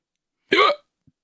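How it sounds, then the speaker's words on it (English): One sharp, loud, close hiccup breaks the silence, followed by a tiny faint click. "Oh, I got the hiccups."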